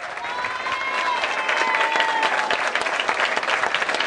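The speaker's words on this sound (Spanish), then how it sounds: "Un aplauso al PT." Dense applause from a crowd at a PT political campaign event in Ecatepec, Mexico, sustained and fairly close for several seconds, with faint voices mixed in.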